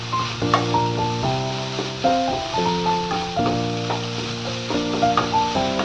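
Loitta fish (Bombay duck) fries in a pan while being stirred with ground black pepper, a steady sizzle and scraping under prominent background music with clear melodic notes.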